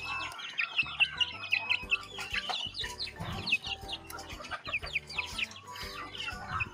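Native country chickens cluck steadily, with fighting-breed chicks chirping on top, a busy, continuous flock sound close by.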